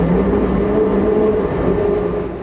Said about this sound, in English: Our train is operated by a former Amtrak F40PH locomotive.